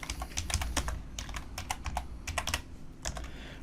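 Fingers tap out an alt code on a computer keyboard, a quick irregular run of crisp key clicks in small bursts with short pauses, close and clear with no talk.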